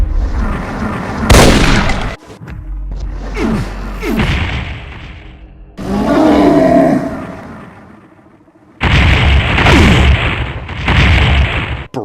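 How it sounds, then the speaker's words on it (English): A Cyberdemon from a modded Doom game fires barrages of straight rockets, producing loud, booming explosive blasts in heavy overlapping bursts with brief gaps between volleys, with no talking. "It has barrages of straight rockets,"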